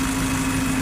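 A Mazda 2 1.5 GT car engine idles smoothly and steadily up close, a continuous even hum with a low drone and no voices.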